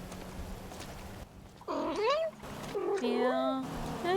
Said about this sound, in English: Yeah, I don't know what that meow means.